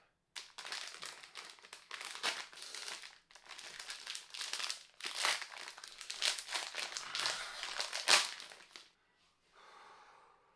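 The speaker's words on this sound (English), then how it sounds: "we are opening some Dollarama Hockey Surprise Packs, which means it's time for some rip and snip" Dollarama hockey card surprise pack wrappers are torn open and crumpled close up, giving long bursts of loud crinkling foil-plastic rustle with short pauses between them and a quieter rustle at the end, with no talking.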